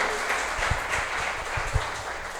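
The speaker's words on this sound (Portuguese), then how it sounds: "dê uma salva de palmas muito forte para o Senhor" A church congregation at an evening prayer service claps in a loud, continuous round of applause, with some deeper thumps of heavier claps or stamps mixed in and no voice over it.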